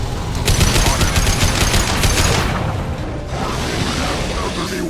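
Rapid gunfire rattles in a Mass Effect 2 firefight on Tuchanka, a loud dense burst of automatic shots giving way to a steady roar of battle.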